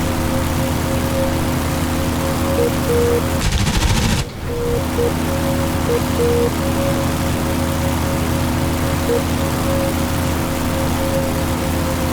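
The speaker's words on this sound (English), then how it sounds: "Both sets of guns are working." DCS F4U-1D Corsair wing guns fire a short, dense burst over a steady, loud engine drone that fills the whole stretch.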